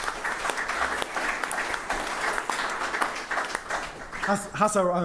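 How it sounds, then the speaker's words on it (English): Audience at a tote betting industry forum applauds a newly elected co-chairman, a dense, even round of clapping that carries for several seconds before a voice starts speaking near the end. "maybe a round of applause as well"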